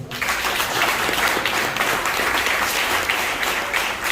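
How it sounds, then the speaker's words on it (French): An audience applauds at a nursery school's year-end celebration, honouring the school's founder: dense, sustained clapping from a crowd, fairly loud and even throughout, with no voices over it. "On peut l'applaudir."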